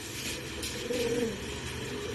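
A racing pigeon coos softly nearby against a steady low background hum, a single short rolling call.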